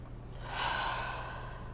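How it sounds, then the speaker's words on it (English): A single slow, airy breath is drawn and released during a yoga warm-up in downward dog, soft and close with no talking. "Taking some deep breaths in and out."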